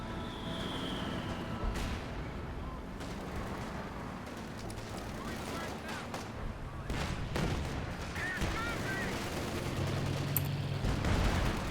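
Battle gunfire in Company of Heroes 2 on a British side match: a steady dense wash of distant shots and artillery rumble, with occasional louder cracks and speech mixed in throughout.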